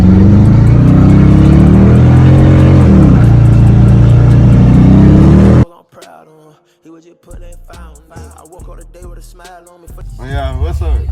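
A Dodge Challenger 392 Scat Pack roars hard under acceleration for about five seconds, loud and close from inside the car, then cuts abruptly to people talking with faint engine rumble returning near the end.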